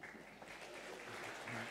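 Audience applause at a Swedish panel event on lessons from the private business sector: steady, dense clapping from a crowd throughout, fairly soft and even, with a brief cheer.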